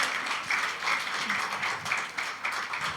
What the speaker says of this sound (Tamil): அதே போல் ஹோஸ்ட் பண்ண ஜோஸ்னாவுக்காக எல்லோரும் ஒரு தடவை கைத்தட்டிடலாமா?